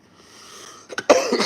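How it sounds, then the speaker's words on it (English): A few short coughs close to the microphone, starting sharply after a quiet moment and repeating quickly. "Cough, cough, cough."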